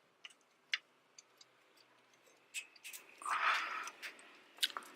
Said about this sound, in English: let me see if I can use my small ratchet